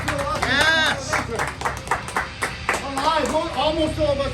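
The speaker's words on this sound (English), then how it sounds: "give yourselves a round of applause" A small tour group claps at the end of a haunted museum tour in Salem, Massachusetts, loose scattered applause mixed with cheering voices and chatter close by.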